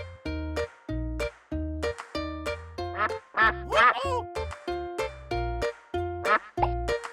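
Cartoon duck quacking in a children's animal-learning cartoon, a steady run of about ten loud, evenly spaced quacks with musical backing and a brief burst of excited voices partway through.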